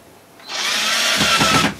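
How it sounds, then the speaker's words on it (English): A power drill drives a screw straight into a wooden walking stick without a pilot hole, a short, loud whir that rises quickly and then labors with a rougher, grinding tone as the screw bites. "next we can put this screw straight in. We don't even need to pilot drill it."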